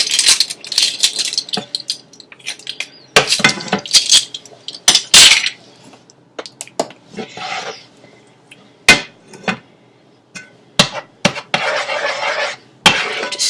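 Minced garlic stirred in a pan with a utensil, giving irregular clattering scrapes and taps of metal against the pan in short bursts with brief pauses, close and moderately loud.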